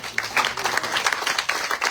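A crowd applauds at a French municipal campaign event presenting running mates, quick scattered claps forming a brief, moderately loud burst with no voices.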